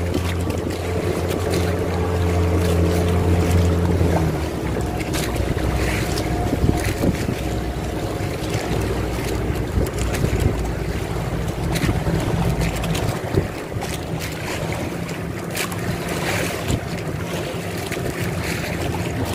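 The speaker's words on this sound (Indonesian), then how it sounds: "Iya, kapalnya ngebut." A speeding boat races across the sea while chasing dolphins, its motor a steady rumble under heavy wind buffeting and splashing water, loud and continuous throughout with no voices.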